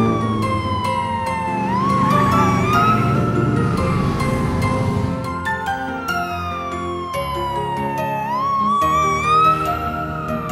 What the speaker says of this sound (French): voiture de police.